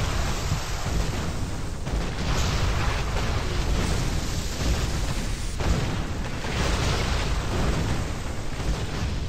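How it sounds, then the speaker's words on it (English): In the western video game GUN, a cannon fires explosives in a continuous stream, producing a dense, rumbling barrage of booms that keeps going with no pauses. "it just like shoots an endless supply of explosives. Explosives in a continuous shot."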